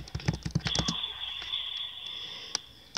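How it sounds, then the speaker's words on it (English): A quick burst of keyboard typing, several rapid key clicks close by, then a few scattered taps over a faint steady tone. "I'm just typing something really quick."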